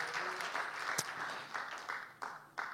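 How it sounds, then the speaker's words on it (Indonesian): A church congregation in Batam claps during a sermon, a brief, fairly soft round of applause with a few sharper individual claps standing out near the end. "Boleh tepuk tangan bagi Tuhan juga nggak apa-apa."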